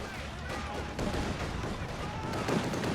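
Battle noise from the strategy game Company of Heroes 2, a steady roar of distant gunfire and dull explosion thuds during a 4v4 match on the Steppes map, with a voice talking over it.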